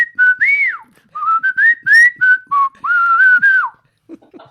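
A person whistles a bright, wavering tune in several clear phrases with brief pauses, ending in a few soft, breathy sounds.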